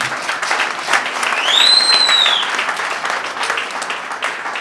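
An audience at a membership card ceremony of a large family association applauds a member, with steady clapping, some cheering, and a brief whistle partway through.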